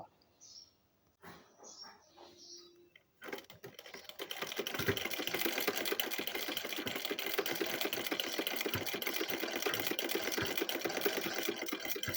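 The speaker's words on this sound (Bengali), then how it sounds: "আমরা সেলাইটা করে নেব" A sewing machine stitches fabric while a salwar is being made, a steady fast rattling hum that runs continuously after a few soft clicks and brief handling sounds at the start.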